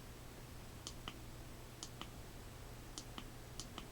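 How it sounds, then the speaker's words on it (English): The button of a Nicron BC60 flashlight is pressed repeatedly, giving four pairs of small crisp clicks, each a press and release, close but quiet over a steady low hiss, with no talking. "when you click the button"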